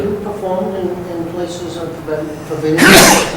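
A single sharp sneeze bursts out near the end, following someone talking at a committee meeting.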